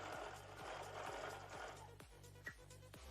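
A domestic sewing machine stitching quilt borders, running in quick regular bursts of rhythmic needle thumps and motor whirr, close and fairly quiet, with a short pause near the end.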